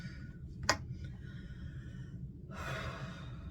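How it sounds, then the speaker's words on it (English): A single deep breath: a brief sharp inhale followed by a longer, breathy exhale close to the microphone, alone in a quiet room. "I need to just take a deep breath"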